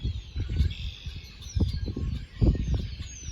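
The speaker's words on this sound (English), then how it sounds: "And here you can hear the birds." Birds chirp faintly in thin, high calls, over low rumbling bumps and handling noise close to the microphone.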